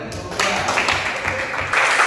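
A classroom audience applauds after a group presentation in a lesson: a short burst of many hands clapping together, moderately loud and fairly even throughout.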